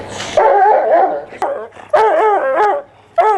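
A four-year-old coonhound mix barks and whimpers eagerly at another dog, giving a loud, close run of yips and whiny barks in uneven bursts with brief gaps.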